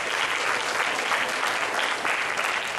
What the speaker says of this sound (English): if we give them applause for stepping to the plate